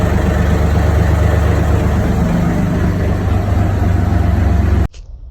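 A boat's marine engine runs with the propeller engaged, a loud, steady low-pitched drone throughout that cuts off abruptly near the end, leaving near silence.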